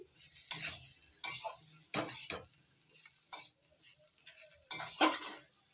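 Spoon scrapes and stirs spices through a cauliflower mixture in a pan, making repeated short, close scraping strokes with brief quiet gaps between them.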